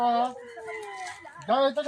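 Backyard chickens cluck and cackle close by in short, rising and falling calls, with a brief louder burst near the end.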